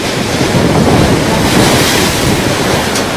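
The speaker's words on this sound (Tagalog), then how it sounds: "Hinampas ng malalakas na alon ang baybayin ng Tagbilaran City, Bohol" Strong waves and gusting wind batter the coast of Tagbilaran City, Bohol during a typhoon, a continuous loud roar of surf with heavy wind buffeting the microphone.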